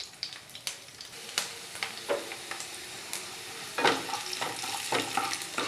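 Raisins sautéed in a pan for a quick halwa crackle and sizzle, with repeated sharp spoon scrapes and taps against the pan over a low frying hiss, close by and with no talking.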